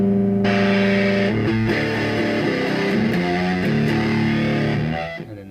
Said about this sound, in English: you can just use it to get some kind of nice sort of fuzzy overdrive tones as well